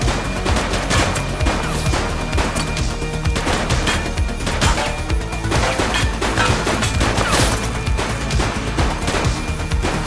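Gunfire in the police action game The Precinct: loud, dense bursts of rapid shots and sharp cracks rattle without pause, layered over a busy rumbling background.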